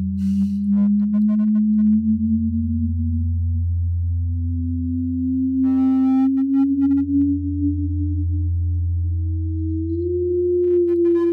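Two sine wave oscillators in a Max patch sound at nearly the same frequency, a steady low pure tone slowly gliding upward while pulsing with slow beating swells, with a few faint clicks, loud and continuous.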